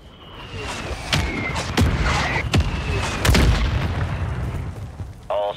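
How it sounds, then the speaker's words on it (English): Mortar strike explosions in the Call of Duty Warzone video game land as a run of sharp booms and cracks, several heavy blasts spaced a second or so apart over a rumbling din, with a short electronic tone at the end. "Mortar strike on the way."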